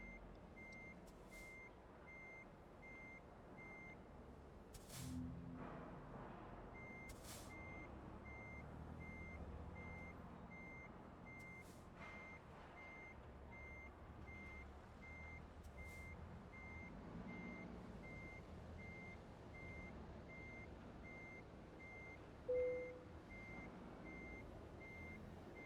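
A truck's reversing alarm beeps steadily at a distance as it backs a trailer into a parking space, with a low engine rumble beneath and a brief louder thump near the end.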